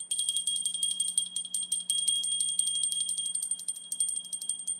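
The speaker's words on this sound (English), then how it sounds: "Wait, the bell." A bell rings steadily and rapidly, a bright, insistent ringing with a rattling pulse that goes on for several seconds, loud and alone without talk.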